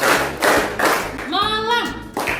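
A classroom of pupils claps in unison in quick bursts, sharp and close, alternating with a teacher's voice and the class calling out replies.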